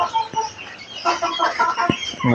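A rooster on a small farm that also keeps Chinese ducks gives a few short, throaty clucks at close range over faint background noise, with no one talking.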